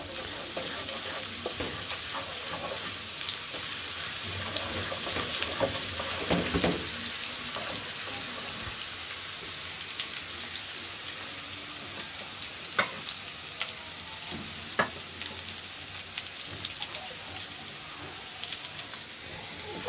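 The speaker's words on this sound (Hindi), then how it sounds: "इसको हम हल्का सा फ्राई करेंगे" Cumin, garlic and ginger paste frying in hot oil for an eggplant dish, a steady close crackle and sizzle with occasional sharp pops and stirring scrapes, no talking.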